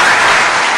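Brief burst of audience applause at a live music programme, a dense, loud wash of clapping lasting under a second.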